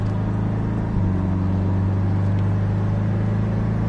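A Porsche Cayman engine on a racing circuit hums steadily at low pitch, then the revs climb slightly after a second and hold, with a continuous close-up motor drone.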